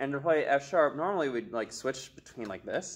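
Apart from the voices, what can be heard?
No everyday noise stands out behind the speech.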